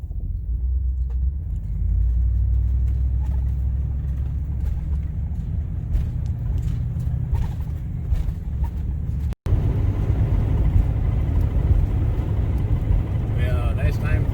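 A truck rolls along a highway toward Albuquerque with a loud, steady low engine rumble and road noise throughout, briefly cut near the middle before resuming.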